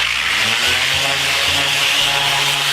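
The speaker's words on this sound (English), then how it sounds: "More sanding." Steady, loud grinding of a power sander working a concrete countertop, continuous abrasive hiss with a low motor hum and slight pulsing.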